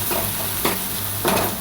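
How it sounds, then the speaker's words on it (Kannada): Onion and egg mixture frying in oil with chilli powder and salt, a steady close sizzle broken by several scraping stirs of a spatula in the pan. "ಚೆನ್ನಾಗಿ ಫ್ರೈ ಮಾಡಬೇಕು."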